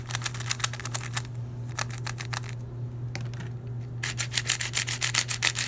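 A dry, sandy-feeling WuQue 4x4 speedcube is turned in quick bursts of rapid clicky, scratchy layer moves, with a short pause before a fast final flurry over a steady low background hum.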